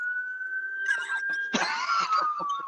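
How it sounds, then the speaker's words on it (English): A passing ambulance siren wails as a faint, steady tone from outside, while brief coughs and voices break in close by. "That's just an ambulance."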